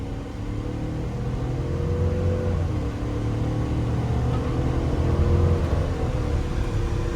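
2021 GMC Yukon Denali accelerating hard, a low, smooth engine drone with rising tonal whine, heard steadily from inside the cabin with no talking.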